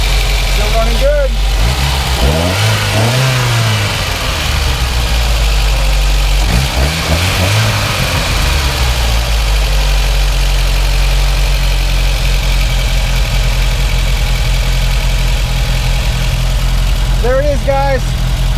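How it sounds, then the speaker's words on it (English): A 1982 Volkswagen Scirocco engine idles steadily after an engine cleaning, a loud, close, continuous low rumble with brief squeals near the start and end, and a voice speaking intermittently over it. "Engine cleaned. Still runs great."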